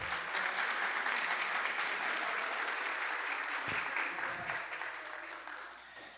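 A conference audience at a talk on business strategies for tax reform claps in a full, even roar that stays strong before thinning slightly toward the end.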